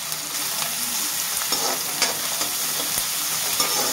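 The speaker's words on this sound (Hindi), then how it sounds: "और इसको हम अच्छे से भून लेते हैं।" Chopped onions fry in a pan, a steady sizzle under repeated stirring scrapes and light utensil taps, close and continuous with no talking.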